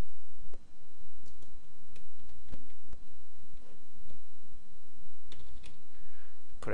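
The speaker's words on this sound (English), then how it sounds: "I'll type in HST." Keystrokes on a computer keyboard while entering an account name in accounting software, a steady run of close, light clicks and taps under a soft background hiss, with no talking.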